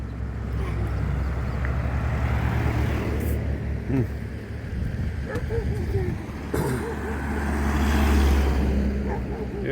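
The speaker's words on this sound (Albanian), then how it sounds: "Që shkalojnë makinët tash." Vehicles crossing the new Rogova bridge in the rain, a continuous low traffic rumble with tyre hiss that builds toward the end, while voices talk over it.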